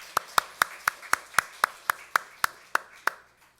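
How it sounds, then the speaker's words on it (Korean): A church congregation claps during a Sunday worship service, about a dozen sharp claps in a steady, even rhythm that slow and fade at the end. "박수로 하나님께 영광 돌리겠습니다"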